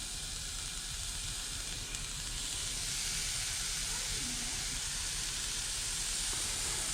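Spanish mackerel fillets sear in a dry pan without oil, giving a faint, steady hiss of sizzling that runs evenly throughout at low volume.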